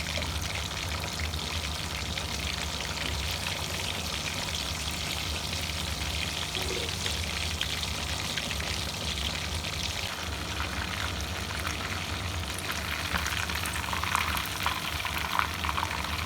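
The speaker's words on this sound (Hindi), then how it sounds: "ये देखें हमारी जो फ़िश है वो बिल्कुल अच्छी तरह से फ्राई हो चुकी है" Lahori-style fish fries in oil with a loud, continuous hissing sizzle that holds steady throughout, crackling a little more toward the end, with no one speaking.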